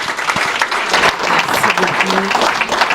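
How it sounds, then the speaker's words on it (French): A church congregation claps loudly and steadily at a French-language service honouring a pastor's husband, dense applause filling the moment with a little voice mixed in. "Est-ce qu'on peut applaudir pour mon mari?"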